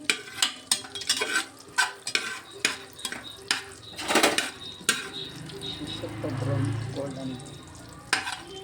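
Spices fry in ghee and butter for palak rice, a soft sizzle beneath frequent clinks and scrapes of a spoon stirring in a metal pan, close and uneven, with a low murmur of talk partway through.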